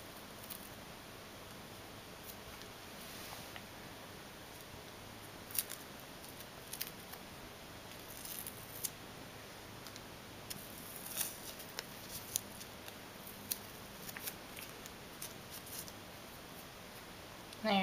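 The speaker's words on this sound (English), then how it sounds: "And then you want to take the masking tape off carefully." Masking tape being peeled carefully off painted fingernails, faint soft crackles and small ticks scattered over a quiet background hiss, close by with no talking.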